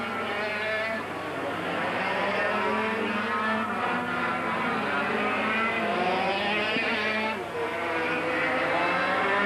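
Several small high-revving reed-valve racing kart engines whine together at a steady distance, their pitches overlapping and shifting as they pass.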